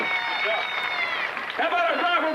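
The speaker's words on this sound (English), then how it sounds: "round of applause for Steve Richmond and Tricky Travelstead" A crowd applauds at a car stunt show while an announcer's amplified voice carries over the clapping throughout.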